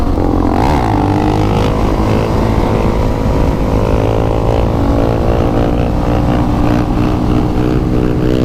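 Supermoto motorcycles revving their throttles out on the street, a loud, continuous engine roar with rising and falling pitch, close and dominant with no speech over it.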